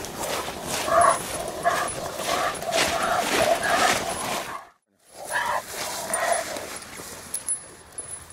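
Coonhounds bay and bark at a tree at night during a raccoon hunt, a steady chorus of overlapping howls and yips at middle distance, with a short gap near the middle.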